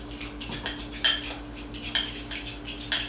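A fork mixes low carb pizza dough in a bowl, knocking and scraping against the sides in irregular clinks and taps over a faint steady hum, close and with no talking.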